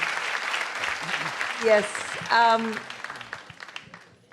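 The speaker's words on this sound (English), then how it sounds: "We can give him a big round of applause." Audience applause for a comedian at a comedy show, a broad wash of clapping in the first second and a half that gives way to a speaking voice over the fading crowd.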